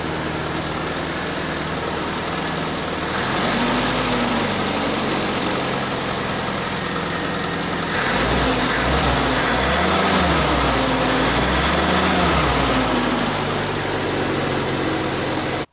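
A Willys Jeep engine idling roughly after a carburetor replacement, with a steady uneven rumble that grows louder and surges unevenly partway through, and no voices.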